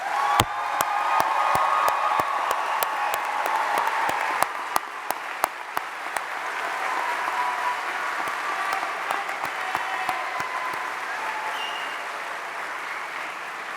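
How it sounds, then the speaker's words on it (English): A large crowd at a university commencement applauds graduates steadily for over ten seconds, a dense wash of clapping with a few sharper claps standing out, gradually easing off. "Another round of applause for our graduates."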